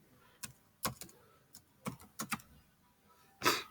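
Computer keyboard typing, a handful of sharp, irregular key clicks in short clusters, close and fairly quiet, ending on a louder burst of rapid strokes.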